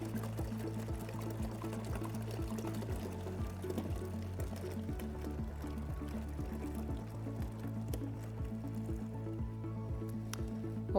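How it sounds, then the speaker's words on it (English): Leftover product drains steadily from the cylinder of an Electro Freeze pressurized frozen-dessert machine, a continuous soft pouring and squishing flow over a low machine hum, fairly faint and without speech. "And now this will drain any product that's in the cylinder still."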